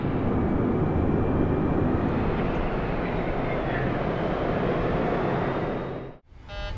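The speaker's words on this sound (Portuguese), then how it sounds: "o Boeing 737-800 começa a acelerar na pista" Boeing 737-800 jet accelerating down the runway on its takeoff roll, a loud, steady broadband engine roar that fills the cabin continuously before briefly dropping out near the end.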